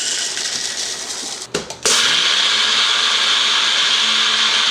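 A blender grinds ingredients into flour with a loud, steady high-pitched whirring, briefly stopping and sputtering before running again at full speed, close up.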